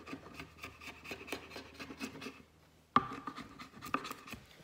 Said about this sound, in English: So here we just need to sort of warm it up and it will just peel back like this.